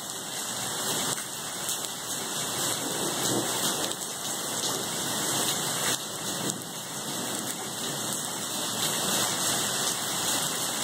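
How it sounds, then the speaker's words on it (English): Steady rain falls and patters on surfaces nearby, a dense, constant hiss with no voices over it. "Are you playing in the rain?"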